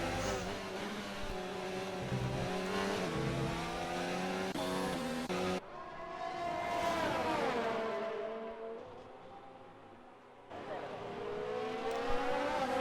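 Formula 1 cars in a racing video game battle for position, engines droning and whining steadily with shifting pitch, broken by a sudden cut and a quieter stretch before the roar returns.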